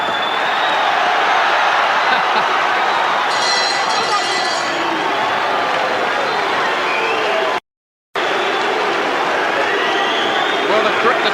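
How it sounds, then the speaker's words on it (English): Boxing arena crowd during a fight, a continuous dense roar of murmuring and cheering with a commentator talking over it, cut by a brief dropout. "Now the crowd like this a bit better as the action hots up"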